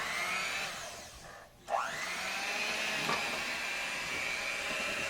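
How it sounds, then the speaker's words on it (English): Electric hand mixer whipping tiramisu cream in a home kitchen, a steady high-pitched motor whine with a short dip where it is slowed or lifted, then resuming loud and continuous with no talking. "my hand mixer is not one of the best, but it will do the job."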